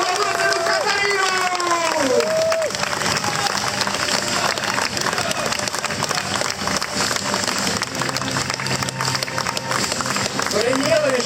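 Crowd at a Slovak medieval knights' tournament festival applauding steadily and loudly throughout, with cheering and babble mixed in, while an announcer's voice rises briefly at the start and end.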